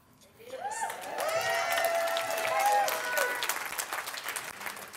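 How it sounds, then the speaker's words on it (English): Warm audience applause at a motivational talk about strengths, rising from quiet into steady clapping with a few whoops and cheers, sustained and fairly close for several seconds. "That applause, that wonderful,"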